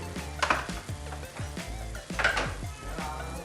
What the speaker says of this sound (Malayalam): നന്നായി ഒന്നിത് ഇളക്കാം